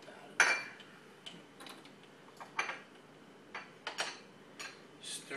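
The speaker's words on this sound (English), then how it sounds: "Now with fresh juices and purees, you always want to give them a stir." A cocktail with fresh juices and cherry puree is stirred in a glass, giving sparse, irregular light clinks and taps of a spoon against the glass, close and soft.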